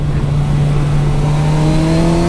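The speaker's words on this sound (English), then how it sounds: "Oh lordy, this is a very Kawasaki-ish engine." Kawasaki Versys 1000 SE GT motorcycle engine heard on the move, a loud steady tone that climbs gradually in pitch as the revs rise, with rushing wind around it.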